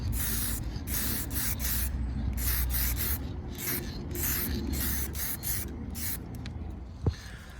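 Clear lacquer sprays from an aerosol can onto a car headlight in a series of short hissing bursts, separated by brief pauses, up close and fairly loud, ending with a faint tap.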